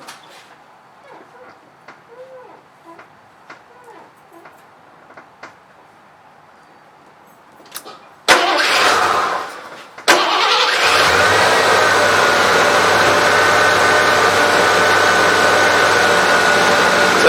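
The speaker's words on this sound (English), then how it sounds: "we're going to sit here and watch the gauge here while I fire up the engine." A car engine cranks and fires up, then settles into a loud, steady run for several seconds, after quiet ticking and faint background sounds.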